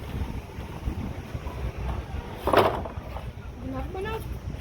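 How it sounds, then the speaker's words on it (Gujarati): Strong cold wind gusts across the microphone outdoors, a steady broadband rush with a louder buffet midway, while people talk intermittently nearby. "મજા આવે એવો ઠંડો ઠંડો પવન છે."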